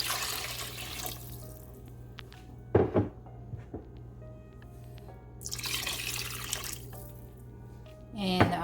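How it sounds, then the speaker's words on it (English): Water being poured into a cooking pot for Filipino arroz caldo, with brief splashing bursts and a steady liquid rush near the end, set against a low background hum and no speech. "we can go ahead and add our water"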